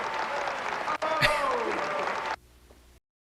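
An audience clapping on an old VHS tape recording, a dense, muffled wash of applause that runs for about two seconds and then cuts off abruptly into quiet tape hiss.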